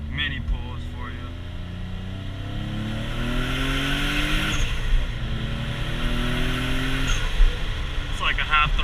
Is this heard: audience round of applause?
no